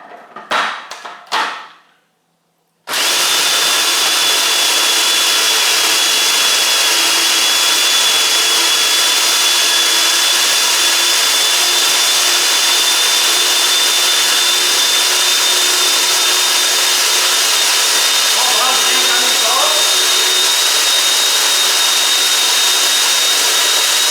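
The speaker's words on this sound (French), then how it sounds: "On va mélanger ça bien comme il faut avec notre robot pour faire une belle pâte uniforme." Food processor blending végé pâté into a smooth paste, a loud, steady motor whir with a high whine that runs continuously for over twenty seconds after a few brief clattering sounds at the start.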